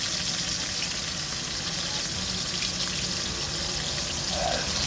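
Fish frying in a pan, a soft steady sizzle with faint watery crackle, continuous and close, no voices over it.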